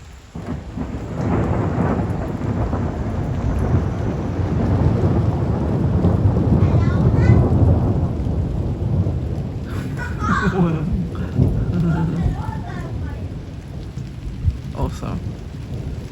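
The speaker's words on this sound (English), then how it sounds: "there's rain and there's thunder" A thunderstorm over an island: continuous heavy rain on surfaces with deep rolling thunder building through the middle, then fainter patter with a few sharper drips toward the end.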